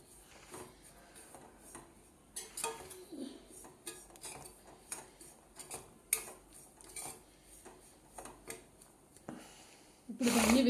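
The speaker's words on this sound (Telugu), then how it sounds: "నూకని వేరే బౌల్లోకి షిఫ్ట్ చేసానండి" Lightly roasted semolina being scraped and tipped from a pan into another bowl, with a quick string of metallic scraping and clinking spoon-on-vessel knocks, close and moderately loud with no speech.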